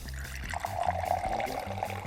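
Beer pours from the tap of a mini keg into a glass, a steady trickling stream that starts about halfway through and runs close to the mic for over a second.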